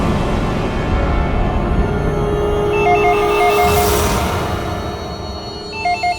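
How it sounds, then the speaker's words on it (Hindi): A telephone rings in a crime drama scene, bursts of an electronic ring trilling twice over a low background score, moderately loud and without talk. "तो भी फोन उठाओ"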